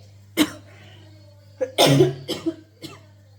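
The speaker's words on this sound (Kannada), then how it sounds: "ಗಂಟ್ಲು ಕಟ್ತಾ ಬಂದ್ಬಿಟ್ಟು ಕೆಮ್ಮು ಬಂದ್ಬಿಡುತ್ತೆ" Several sharp coughs come one after another, with short pauses between them, close and fairly loud.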